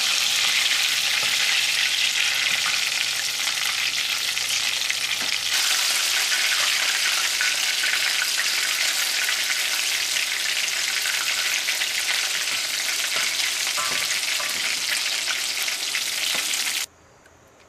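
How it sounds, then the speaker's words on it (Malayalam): Chicken frying in hot oil for a Kerala-style chicken fry gives a loud, steady, close-up sizzle. It crackles without a break for about seventeen seconds, then drops away abruptly. No one speaks. "ഇനി നമുക്ക് ചിക്കൻ്റെ എണ്ണയിൽ മാറ്റാം."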